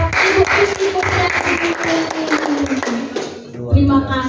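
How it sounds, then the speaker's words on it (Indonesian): Classroom applause during a microteaching lesson on making seaweed noodles, a group clapping steadily for several seconds under overlapping voices and chatter, fading briefly before a speaker resumes. "Tepuk tangan buat ibu dan"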